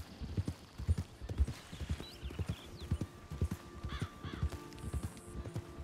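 Horses in Red Dead Redemption 2 clop steadily along at a walk, hooves thudding in an uneven rhythm, with a whinny rising near the end and crows cawing faintly in the distance.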